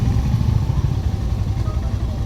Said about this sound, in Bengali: ও বাইক চলে এসছে পেছনে আমার